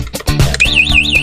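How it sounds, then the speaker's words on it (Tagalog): Vehicle anti-theft alarm chirping loudly and close, with a few sharp clicks and beeps followed by a rapidly warbling electronic siren tone. "Ganun din sa anti-theft alarm."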